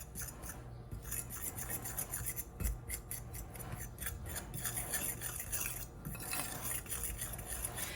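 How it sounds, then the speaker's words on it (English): A fork scraping and stirring through a bowl of keto cookie dough ingredients, giving a steady run of close, rough scratching and rubbing strokes with small clinks. "I'm going to just take a fork and I'm going to combine it well"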